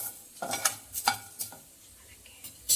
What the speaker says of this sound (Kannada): ಇದನ್ನೆಲ್ಲ ಡ್ರೈ ಫ್ರೈ ಮಾಡ್ಕೋಬೇಕು.